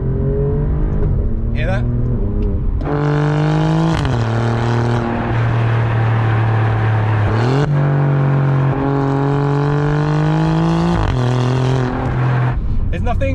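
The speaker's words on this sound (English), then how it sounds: "You get those really nice kind of cracks on the upshift." A 2020 Alfa Romeo Giulia Quadrifoglio with an 8-speed ZF gearbox pulls hard, its engine note climbing and then stepping down at each of several upshifts with sharp cracks, loud and close. A voice speaks briefly at the start.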